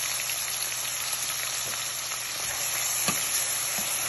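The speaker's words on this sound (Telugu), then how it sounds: "బాగా ఫ్రై చేసేసుకున్నామండి" Thinly sliced onions frying in a pan for prawn curry, a continuous close sizzle with faint crackles and an occasional scrape of stirring, no voices.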